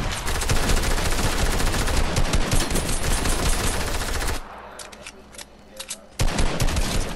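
Rapid automatic gunfire in Fortnite, loud and sustained for several seconds, then a brief lull with scattered quieter sounds before the shooting bursts back in; a voice is faintly present under the shots.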